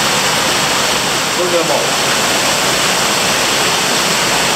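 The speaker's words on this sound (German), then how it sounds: "Der Wasserfall." A waterfall rushes inside a cave, a loud, steady broadband roar of falling water throughout, with someone briefly speaking over it.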